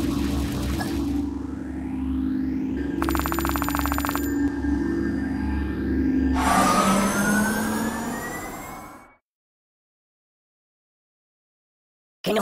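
A loud electronic phone ring from the mobile game Kick The Buddy sounds in repeated bursts layered with game tones and rumbling, then cuts to silence near the end.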